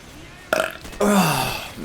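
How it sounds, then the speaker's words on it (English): Two close, loud human burps: a short croaky one, then a longer, deeper belch that trails off, with no talking. "every single time I do a commentary, I start burping."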